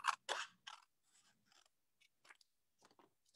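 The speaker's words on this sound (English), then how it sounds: "I'm actually going to cut off the backing" Scissors snipping the backing off a small paper gift-tag card, a few quiet crisp cuts close by with short pauses between them.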